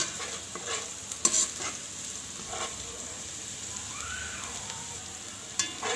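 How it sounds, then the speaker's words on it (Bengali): Onion and garlic frying inside a rice cooker make a soft, quiet sizzle, broken by a few sharp clicks and scrapes of stirring. "এটা একটু ভালো করে বেশি করে হালকা বাদামি করে ভাজতে হবে"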